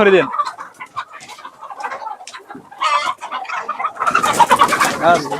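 Tiger breed chickens calling and clucking near and fairly loud in a home setting, a busy run of overlapping squawks and clucks that swells toward the end, with some faint speech mixed in.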